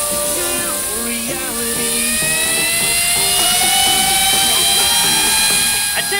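Fidget spinner whirring at high speed, a loud, steady high-pitched whine with shifting overtones held for about six seconds.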